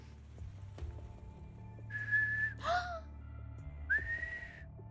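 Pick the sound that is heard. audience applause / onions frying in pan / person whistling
person whistling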